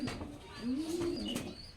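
Domestic Rajshahi Giribaz pigeons give a soft, low, drawn-out coo close by, one rolling call rising and falling over a faint background.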